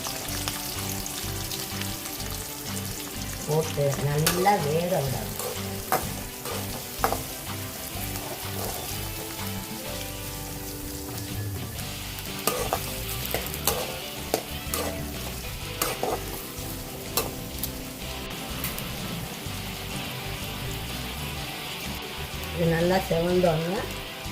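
Chillies, onion and garlic fry in a pan for Chettinad crab gravy, with a steady sizzle broken by repeated scraping stirs close up, and speech at moments.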